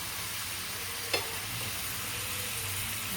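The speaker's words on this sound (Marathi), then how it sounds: "मध्ये मध्ये आता मिक्स करत राहायचं आहे जेणेकरून मटण खाली लागणार नाही" Mutton being stirred on a hot tawa for Agri-style tawa sukha mutton, a steady close sizzle with one sharp scrape of the spatula partway through, no talking.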